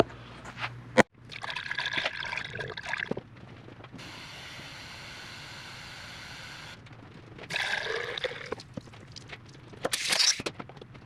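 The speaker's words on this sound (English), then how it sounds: "Let's go ahead and just pour some antifreeze right down in the top of the head" Antifreeze is poured into the top of the engine head of a 1954 Willys Jeep, a close liquid trickle and gurgle in uneven bursts, with a steady stream in the middle and a sharp clank near the start.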